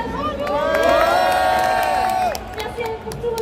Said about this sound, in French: Merci pour tous vos applaudissements